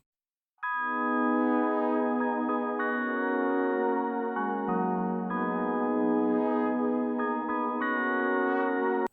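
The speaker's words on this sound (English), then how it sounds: "this Prophet, the Dave Smith 12 Prophet" A sustained, layered Dave Smith Prophet 12 synthesizer riff with rich harmonic chords shifting every second or so, bright and continuous with no voices.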